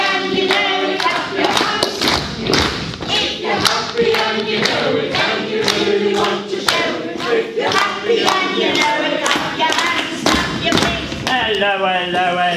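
Pantomime audience clapping and stamping along to a nursery rhyme, a dense rhythmic mass of claps and thuds mixed with singing voices and cheering throughout.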